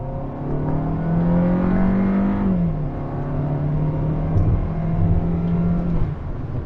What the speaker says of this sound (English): we get a lot of turbo noise there, and the turbo is winding up and hitting a higher RPM